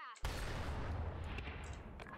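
A grenade explosion in the online shooter Blackshot during a clan war match; one sudden loud boom breaks out after a brief quiet moment and rumbles on for about two seconds, with faint game noise behind it.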